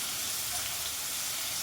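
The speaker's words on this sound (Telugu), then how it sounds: "ముందే కట్ చేసి పెట్టుకుని ఉల్లిపాయలు, పచ్చిమిర్చి వేసుకోవాలండి. అవి కూడా బ్రౌన్ కలర్ వచ్చే వరకు ఫ్రై చేసుకోవాలి." Onions and green chillies fry in a pan with a steady, dense sizzle, close and constant, with no voices.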